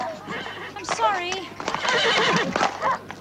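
A horse lets out a loud, wavering whinny that rises and falls over about half a second, with voices and other activity close by.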